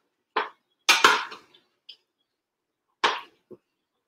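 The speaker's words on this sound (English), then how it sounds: "So I'll take this big spoon. And I'm going to just stir it." A big spoon knocking and scraping inside a pot of day-after-Thanksgiving soup, a few sharp separate clacks with short gaps of silence between them, close and clear.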